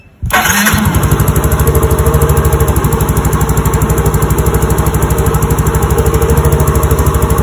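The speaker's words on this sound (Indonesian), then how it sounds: "Kemudian kita hidupkan motornya. Coba kita hidupkan." A Yamaha Mio J motorcycle starts with a short crank, then its engine catches and settles into a loud, steady close-up idle with an even, fast pulsing chug that runs on without any speech.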